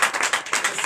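Congregation clapping at a Sunday church service in Comè, Benin, a steady run of dense, close applause with no talk.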